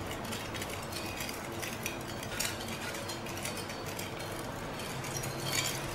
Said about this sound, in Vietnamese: quậy cho đường nó tan.